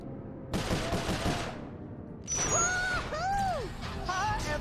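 Gunfire erupts in the video game Sly Cooper 4: a dense, rapid burst of shots lasting about two seconds, then a brief gap before more game sounds with whistling and warbling electronic tones.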